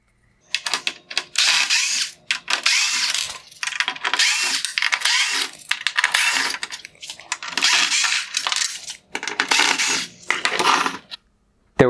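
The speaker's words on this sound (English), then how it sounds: "Next, I will remove the T15 Torx screws holding on the bezels." A cordless driver or ratchet removes seven T15 Torx screws from the bezel of a 2014-2016 Mercedes-Benz E400 LED headlight, in repeated close bursts of whirring and clicking separated by short pauses, with no talking.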